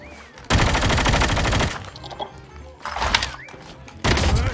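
Rapid automatic gunfire in a shooting video game, loud close bursts that start and stop in several volleys, with short pauses between and a little voice chat mixed in.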